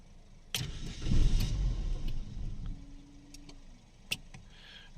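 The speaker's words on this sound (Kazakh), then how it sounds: "Машина оталып өшіп қалады." A push-start car with an immobilizer cranks and fires briefly, running roughly for about two seconds before stalling and dying away, followed by a few sharp clicks and ticks in near silence.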